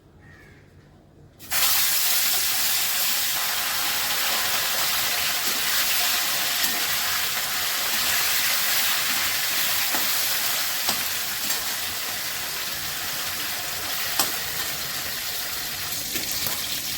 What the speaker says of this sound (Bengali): প্রথমেই আমি মাছগুলো ভেজে নিচ্ছি